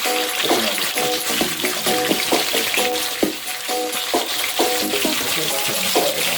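Red snapper fries in hot oil for a Jamaican fried fish dish, a loud continuous sizzle and crackle with repeated clinks and scrapes of utensils through it.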